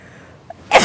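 A single sharp sneeze bursts out at the end, loud and close after a brief quiet lead-in.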